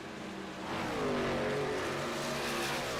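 Several race cars accelerate hard around the Indianapolis Speedway oval in a Midwest Motorsports oval series race, a loud sustained engine roar rising in pitch as they pass, with the crowd of engines blending together.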